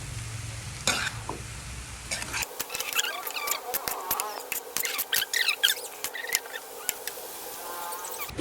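Bean sprouts for lumpiang toge are stirred in a frying pan, a close sizzle broken by many sharp clinks and scrapes of the utensil against the pan, following a brief duller stretch at the start.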